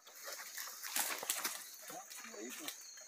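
Hunting dogs on an armadillo hunt give scattered yelps and whimpers amid rustling, with people talking nearby over a few seconds.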